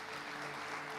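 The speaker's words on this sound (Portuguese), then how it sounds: "Você pode aplaudir o Senhor por isso?" Church congregation applauding during a sermon, a steady, dense wash of clapping filling the whole second at even loudness with no voice on top.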